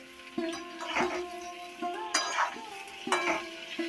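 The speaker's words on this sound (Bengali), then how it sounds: "এবার নেড়ে চেড়ে আমি আলুটাকে ভালো করে লাল করে একটু ভেজে নিয়ে তোমাদের আবার দেখাচ্ছি" Potatoes are stirred and fried in a pan, a spatula scraping and knocking against the metal in a few distinct strokes over a soft steady sizzle of hot oil.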